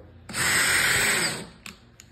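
A drill bores a hole in material for a turtle enclosure, a steady whining burst lasting about a second that winds down, followed by a couple of short clicks.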